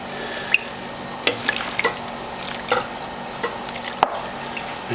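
Water being stirred in a pot of German rabbit stew (Hasenpfeffer): faint liquid sloshing with a few soft, scattered clinks and drips at close range, with no talking.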